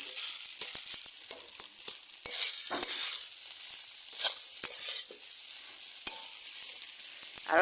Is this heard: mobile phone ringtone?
no